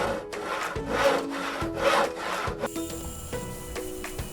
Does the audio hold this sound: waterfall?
no